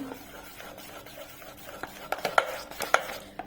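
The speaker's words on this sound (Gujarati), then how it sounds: "હવે એને આપણે મસ્ત હલાવી લઈએ પાછું" Dhokla batter thinned with water is stirred in a bowl with a spoon, a soft steady scraping that turns into a few sharper clinks and taps against the side toward the end, with no voices.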